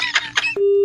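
Phone dialing beeps in a domestic comedy scene: a few short tones in quick succession, then a steady sustained beep, loud and close.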